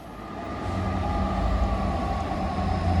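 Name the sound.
passing freight train (Tesco train) on railway line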